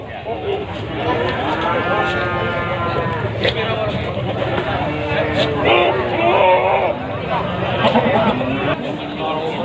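Goats about a metre tall bleat at a crowded livestock market before Eid al-Adha, with repeated drawn-out cries, some overlapping, over a constant murmur of people talking nearby.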